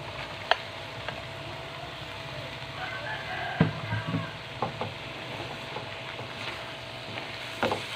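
Mussels and fresh shrimp paste are stirred in a pan with a faint sizzle and scattered spoon scrapes and taps, while a rooster crows in the background.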